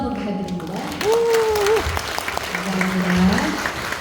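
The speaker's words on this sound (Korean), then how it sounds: "은혜로운 찬양으로 섬겨주신 반석감리교회 찬양단에게 박수 한번 부탁드립니다" A church audience at a next-generation revival seminar at Gangneung Banseok Methodist Church applauds the worship team, with a wash of clapping under sustained tonal voices and sounds throughout the clip.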